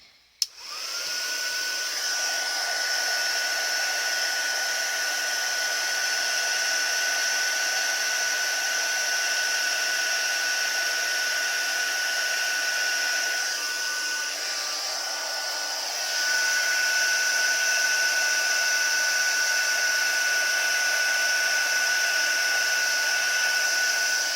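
A heat tool blows hot air onto a card for pinwheel Christmas cards, producing a loud, steady fan-like whir with a high whine that runs continuously close by, rising slightly in level partway through.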